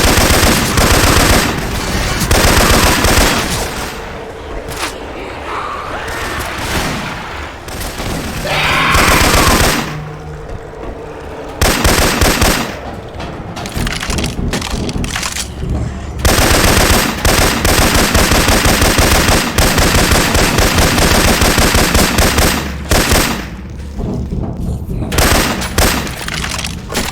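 Syphon Filter weapon sounds play in Left 4 Dead 2 as heavy, nearly continuous automatic gunfire, loud and close, broken by a few short lulls, with voices faintly mixed in.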